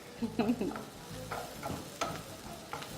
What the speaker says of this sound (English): So I'm just giving this a stir.